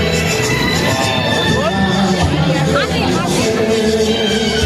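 A dense crowd mills around the DN Ghosh Durga Puja pandal during 2025 pandal hopping, a steady hubbub of many overlapping voices close by, with no break throughout.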